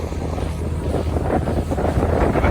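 Steady, loud wind buffets the microphone beside a lake in Patagonia's lake region, a continuous low rumble with gusty swells and no speech over it.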